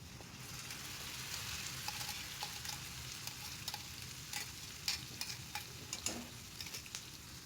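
Blended green spinach paste is stirred into a pan of fried onions and tempering, a soft steady sizzle with light scraping and clicks of the spoon against the pan, close and fairly quiet.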